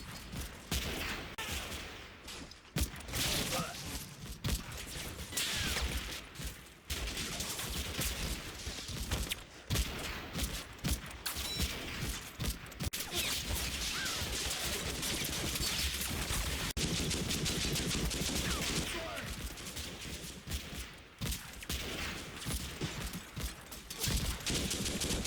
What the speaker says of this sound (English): Suppressive fires increased on the front buildings.